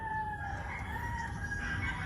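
Pigeons roosting under a roof cluster together and coo in a low, continuous murmur. A fainter steady tone hangs over them, and no one speaks.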